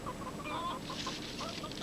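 Chickens in a cartoon set on a castaway family's island cluck softly in a few short, faint bursts over a quiet background.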